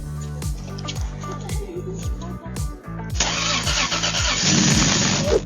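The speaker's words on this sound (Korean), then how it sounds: "자동차에 미친 아이가 이 슈퍼엔진 소리를 듣고 싶어 했을 때" A supercar engine cranks with a rapid rhythmic churning, catches, then roars into loud, rising revs that grow fuller toward the end, heard up close with no talking.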